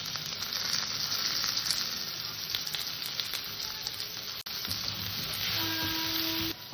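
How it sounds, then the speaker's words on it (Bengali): Mango pieces seasoned with salt and turmeric fry in a pan over low heat for a sour mango dish, giving a steady, close crackling sizzle that runs throughout with no talk. "হালকা জালের পরে আমটাকে একটু ভেজে নেব"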